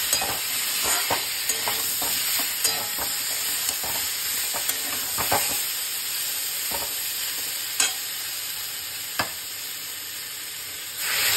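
Steady sizzling of potatoes cooking in a pan, with scattered stirring scrapes and clicks, close by and fairly loud, no voices.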